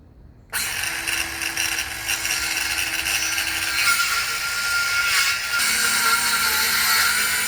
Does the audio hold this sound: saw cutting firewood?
yes